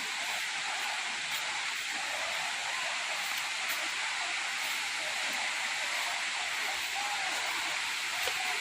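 Water rushes steadily at Huai Luang waterfall in Thailand, a constant broadband roar that stays level for the whole stretch.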